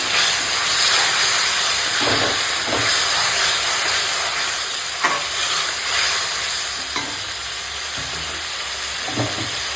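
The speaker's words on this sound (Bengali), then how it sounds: "অল্প অল্প করে এই টকটা দিয়ে কষাবো" Mutton masala with potatoes sizzles steadily in a hot pan, a dense continuous frying hiss with occasional spoon scrapes and stirring knocks, close and loud throughout with no talking.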